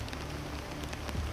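Steady rain patters on a surface, a soft continuous hiss with scattered drips.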